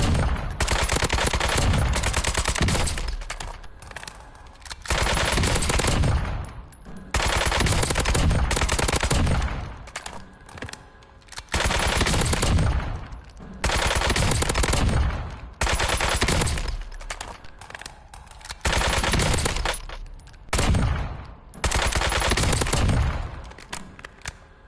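Sustained machine-gun bursts from Call of Duty: Warzone, loud and dense, come in about eight long volleys separated by short pauses, with no talking over the fire.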